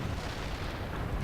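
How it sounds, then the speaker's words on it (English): Continuous rumbling booms from bear bombers' explosions in a video game bombing run, dense and loud throughout with a low, roaring bed and no clear gaps between blasts. "I've missed all of these explosions."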